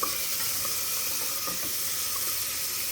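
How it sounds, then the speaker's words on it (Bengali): Onion frying on high heat in a pan gives off a continuous, even sizzle and hiss, moderately loud and unbroken for the whole stretch, with no voices. "এখন এটাকে একদম হাই হিটে পেঁয়াজটাকে ভালো করে"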